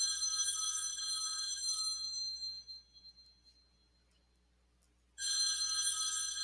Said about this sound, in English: now my husband's phone is ringing